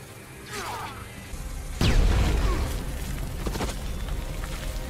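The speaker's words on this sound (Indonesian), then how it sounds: "Wanita meledakkan granat yang mengakibatkan Max terpental." A grenade explodes in a film scene, a sudden deep boom cutting in midway over a busy soundtrack, followed by a rumbling tail, with whooshing effects before it.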